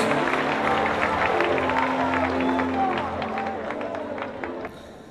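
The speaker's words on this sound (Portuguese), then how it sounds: "Os que podem, tomem seu assento, glorificando e aplaudindo Jesus" Church congregation at Assembléia de Deus da Penha applauding, a dense sustained wash of many hands clapping that fills the hall and fades slightly toward the end.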